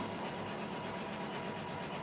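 Embroidery machine running steadily on a hooped project, a constant close mechanical hum and rapid stitching whir with no pauses and no one talking.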